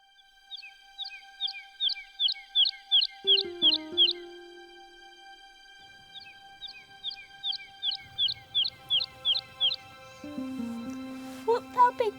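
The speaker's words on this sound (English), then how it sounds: "It was the nightingale, and not the lark, that pierced the fearful hollow of thine ear." Nightingale song in a staging of Romeo and Juliet comes as two long runs of rapid, evenly spaced high chirps over steady held tones, with lower sustained notes sounding in between.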